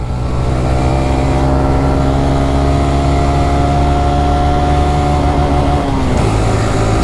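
A Honda CT125 motorcycle engine revs hard toward its red line, a loud steady drone with rising pitch that holds and then drops sharply near the end as the rev limiter cuts in.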